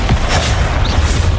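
Expulso spell blast cast in the video game Hogwarts Legacy, a loud, dense booming explosion with deep rumble and crackle sustained through the short moment.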